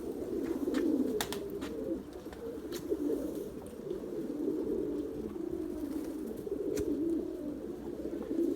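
White pigeons cooing outdoors on a windy day, a soft, low, repeated cooing that runs almost continuously, faint and steady, with occasional light clicks and no voices.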